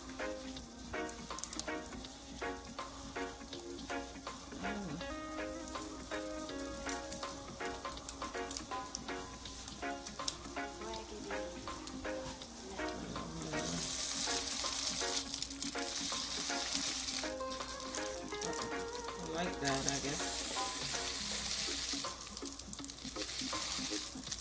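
Salmon burger patties fry in a pan, sizzling steadily throughout, with bursts of stirring and spatula pressing and a louder, brighter sizzle swelling in the second half, no talking.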